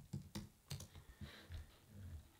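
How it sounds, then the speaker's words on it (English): Keys tapped on a computer keyboard while entering a search word into a design tool, a short burst of quiet, close clicks in an uneven rhythm, alone. "I'm just going to type in here, hockey."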